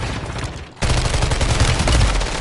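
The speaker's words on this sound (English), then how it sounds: "It's two of y'all shooting at me." Dense, loud bursts of rapid automatic gunfire in a video game shootout, continuous and close throughout the short stretch with no talk.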